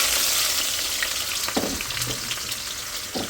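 Garlic and onion sizzle and hiss steadily in hot oil in a home kitchen pan, a continuous close frying sound with a few soft clicks of stirring.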